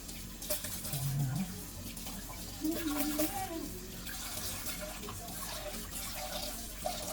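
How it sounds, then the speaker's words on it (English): Tap water runs into a cooking pot as it is rinsed out, a soft, steady splashing flow with faint clinks, close by in a kitchen and without talk. "So I'm gonna rinse out the pot."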